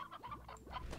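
A Chickadoo chick in the game Slime Rancher gives a quick run of close, lively clucks, about five short calls packed into a single second.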